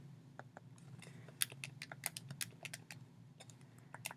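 Someone taps numbers into a calculator with a quick, irregular run of crisp clicks close to the microphone, over a low background hum.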